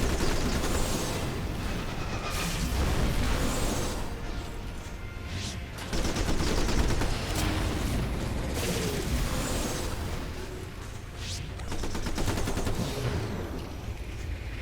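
Needle jets attacking in the strategy game Civilization: Beyond Earth – Rising Tide: rapid, sustained rattling fire in several bursts with brief lulls, fairly loud and steady, with no talking over it.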